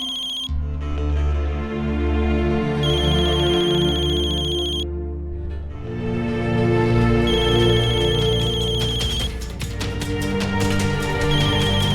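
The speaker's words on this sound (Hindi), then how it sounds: "फोन है।" An electronic phone ringtone plays continuously as a bright repeating melody over a steady background tone, with no one speaking.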